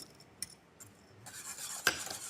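A utensil stirs egg yolks into a hot clementine mixture for panna cotta, giving a few faint scrapes and clinks against the bowl, with one sharper knock near the end.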